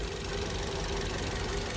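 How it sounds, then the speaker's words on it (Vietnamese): A 2007 Toyota Vios engine idling, an automatic G-grade sedan: a steady, smooth low hum with even, continuous vibration and no other sound. "Máy nổ rất là êm các bạn."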